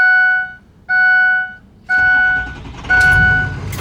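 Several loud electronic warning chimes sound from a Ford 6.0 Powerstroke diesel truck, then the engine catches and settles into a close, low diesel rumble underneath the last chime.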